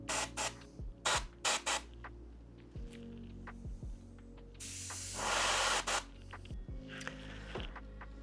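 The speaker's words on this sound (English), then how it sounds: "I've then mixed another couple of drops of grey blue into the airbrush mix from before, just to apply one final highlight" Airbrush spraying grey-blue paint onto a Blood Angels miniature, several short sharp hissing bursts followed by one longer sustained spray, close and quiet over a low background hum.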